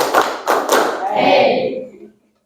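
Participants in an academic coaching session clap on cue in a clapping game, with a few sharp hand claps near the start, then voices chattering and calling out as the clapping fades.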